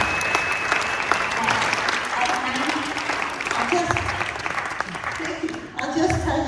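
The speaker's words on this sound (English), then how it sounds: "let's give Martha a warm applause." Warm applause from an audience at a hometown legend event, steady dense clapping throughout with some voices mixed in near the end.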